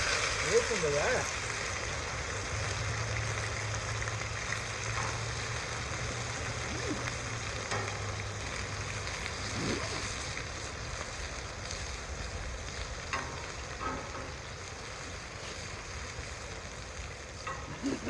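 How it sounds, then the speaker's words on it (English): Food sizzling on a hot cast iron griddle over charcoal at a campsite, a steady hiss running the whole time with occasional clinks, under people talking nearby. "See if it'll sizzle."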